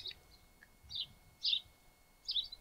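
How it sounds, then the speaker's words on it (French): Short bright house sparrow chirps come in three or four separate bursts with pauses between, moderately close, over a faint low background rumble. "je vais diriger le micro vers le bruit des oiseaux"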